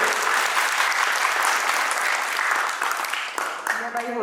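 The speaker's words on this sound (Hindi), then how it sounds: "आप सब लोग जोरदार तालियों से।" An indoor audience at a book launch during a yoga day gathering claps loudly and steadily, the dense applause tapering near the end as a voice begins to speak over it.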